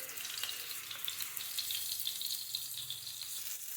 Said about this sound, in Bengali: হলদি লবণ দিয়ে মাছটা ভেজে নিব